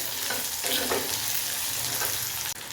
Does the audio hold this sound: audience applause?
no